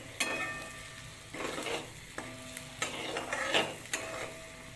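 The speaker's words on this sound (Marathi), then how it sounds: "अंडा एकदम सुटसुटीत होईपर्यंत त्याला परतवत राहायचं." Egg bhurji stirred and fried in a pan, a soft sizzle broken by repeated spatula scrapes against the metal every second or so, fairly quiet and close, with no talking.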